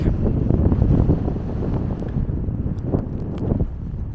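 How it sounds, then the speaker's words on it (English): Strong wind at Grindstone Lake in Lincoln National Forest buffets the microphone in a loud, continuous low rumble with gusty surges, and no one speaks. "Just as windy here as it was over at the camp"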